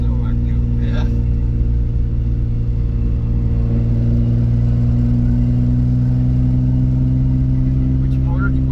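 Stock non-turbo VG30 V6 in a Nissan 300ZX with 56,000 miles, heard from inside the car as a steady, loud low engine drone that rises slightly while driving, with voices talking over it.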